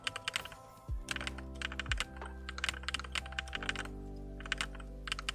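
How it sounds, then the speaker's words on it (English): Rapid typing on a new computer keyboard during TETR.IO play, with dense bursts of clicky keystrokes in fast irregular rhythm, close and alone with no talk, over a steady low hum. "I still get distracted sometimes listening to the keyboard because it's so different from the one I had just like an hour ago."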